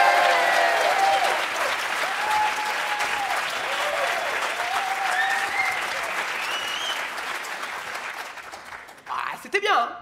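Live audience at a French stage show applauding and cheering loudly for several seconds, the clapping dense and continuous before thinning out, with a voice cutting in near the end.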